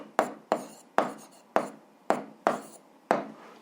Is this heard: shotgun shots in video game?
no